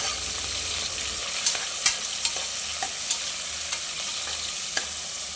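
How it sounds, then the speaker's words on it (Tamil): Sliced onions fry in ghee with spices for prawn biryani, giving a steady sizzle broken by several sharp clinks as a spoon stirs against the pan, with no talking. "அதை போட்டு நல்லா ப்ரௌன் கலரில் வரணும் ஆனியன்,"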